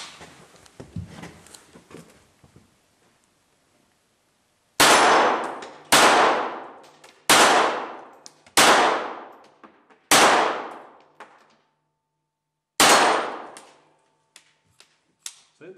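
Six sharp metallic clangs of .22 LR pistol bullets from a Walther GSP500 striking steel targets at 25 meters, spaced a second or two apart, each ringing briefly before fading, with faint murmuring at the start.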